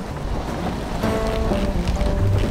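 A sailboat sails on open sea in the Whitsundays with steady wind buffeting the microphone and a rushing wash of water around the hull.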